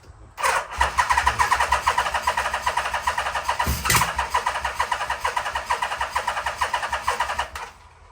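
A 1987 Yamaha engine cranks loudly and steadily with a rapid rhythmic chug for about seven seconds, briefly catching and firing midway, then the cranking stops.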